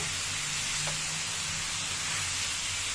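Green beans with spice mix frying in a pan, a steady loud sizzle and steamy hiss throughout, with a faint stir partway in.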